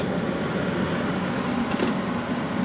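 An 8,000 BTU LG air conditioner runs on a hot day as a steady, loud broadband whoosh of blowing air with a low hum beneath it, unbroken and close, with no talking.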